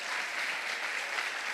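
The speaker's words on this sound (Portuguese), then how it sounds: "Você pode dar uma salva de palmas para o Senhor aí, em nome de Jesus?" Congregation at a church service applauding steadily, a dense wash of clapping from many hands that holds at an even level throughout with no voices over it.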